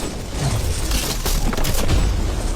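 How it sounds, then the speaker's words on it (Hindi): The world's biggest dominoes topple with a dense, rolling crash of heavy impacts that rumbles on continuously for a few seconds. "वो धड़ाम सुन रहे हो? ओह, ये गिर रहे हैं।"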